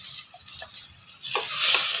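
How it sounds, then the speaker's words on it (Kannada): Ground masala roasting in a little oil for a horse gram sambar, giving a soft, steady close sizzle with a few light stirring scrapes that swell slightly toward the end. "ಅದನ್ನು ಸ್ವಲ್ಪ ಎಣ್ಣೆಯಲ್ಲೇ ರೋಸ್ಟ್ ಮಾಡ್ಕೋಬೇಕು."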